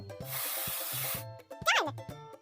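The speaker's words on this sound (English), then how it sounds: "Let's paint over the discolorations." Spray painting in a kids' construction vehicle game: a bright, sustained hiss of spray lasting about a second over a bouncy musical backing, followed by a short cartoonish whistle-like effect.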